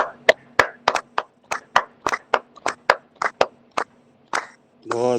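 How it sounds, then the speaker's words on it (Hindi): A group claps hands at the close of a yoga session, sharp separate claps in an uneven rhythm, fairly near and loud, then a brief burst of voices at the end. "लास्ट ताली एक बार और बजा लेते हैं"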